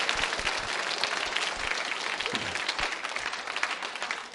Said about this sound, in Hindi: तालियां बजा सकते हैं प्रधानमंत्री के इस आश्वासन पर आप